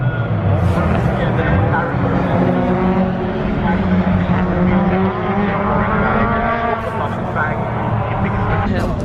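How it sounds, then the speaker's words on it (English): Race car engines at a car show keep up a dense, loud roar and drone with no breaks, while people talk nearby. "Hopefully see some sick race cars"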